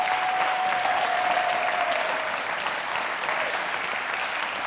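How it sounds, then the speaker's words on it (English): A large audience at a TEDx Sonoma County event gives sustained applause for the speakers and performers, a dense, steady wash of clapping filling the room at even loudness throughout. "we'll give all the speakers and performers one giant, wonderful round of applause"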